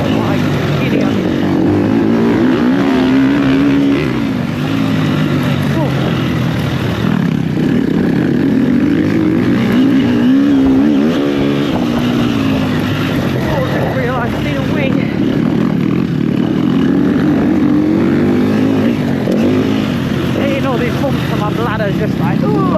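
An enduro bike ridden on a soft, cold motocross track: a loud, continuous engine drone rising and falling with throttle across the whole stretch, with wind buffeting and a rider's voice over it.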